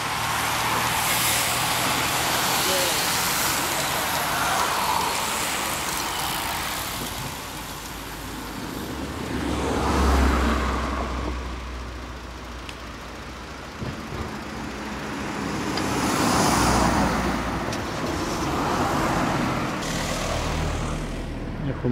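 Escort and technical support cars pass along a road race route, engines and tyre noise swelling and fading in several broad passes, moderately loud against steady outdoor background.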